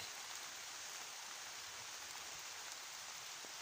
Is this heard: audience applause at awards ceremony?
no